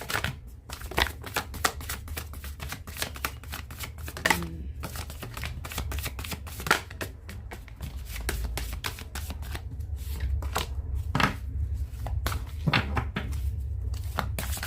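Tarot cards are shuffled by hand in quick repeated riffles and slaps, crisp papery bursts spaced irregularly across a quiet room with a low background hum, no talking.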